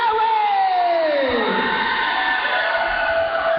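A wrestling crowd cheers for Buddy Highway, the Gresham Savior, at a live wrestling event: a steady, dense roar of many voices fills the hall throughout, with a falling sweep near the start and no clear talk on top.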